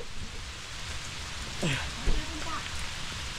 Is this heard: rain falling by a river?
yes